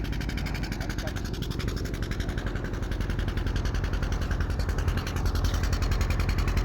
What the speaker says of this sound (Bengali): এই লঞ্চ ছাড়ছে আপনারা দেখতে পাচ্ছেন।